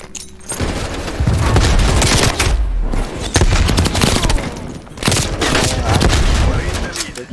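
Frag grenade blast and rapid gunfire in the Call of Duty: Cold War video game, loud bursts of shooting and booming impacts filling the whole stretch with brief lulls, a player's voice talking over the action.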